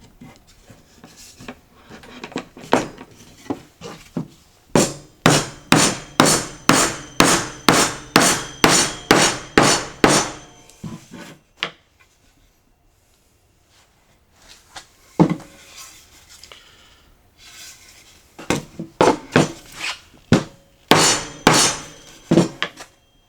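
Mallet or hammer blows tapping a hand-cut wooden mortise and tenon joint together, a fast run of about a dozen sharp, evenly spaced knocks, then a pause and a few scattered taps before another quick burst.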